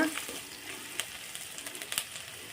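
Steady sizzle of food sautéing in a pan, with a couple of sharper scrapes as it is stirred; no voices.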